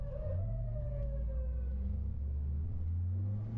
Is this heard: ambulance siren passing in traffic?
yes